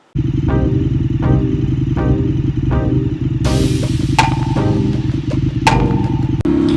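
An Indian FTR motorcycle rumbles steadily underway, its low engine drone constant throughout with a few sharp clanks and taps near the end, no talking.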